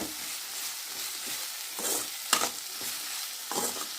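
Prawns with onion, tomato and capsicum sizzle and fry in a pan, with a few stirring scrapes and brief louder sizzles over a steady low crackle.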